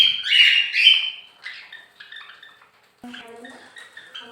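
Pet cockatiels chirp with bright, short calls near the mic while eating chickpeas, bursts loudest in the first second, then softer scattered chirps and faint clinks from the feeding dish.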